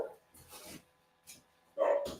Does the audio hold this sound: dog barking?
yes